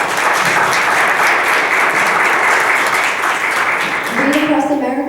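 Loud, sustained applause from a crowd, steady clapping filling the whole stretch, with a few voices rising near the end.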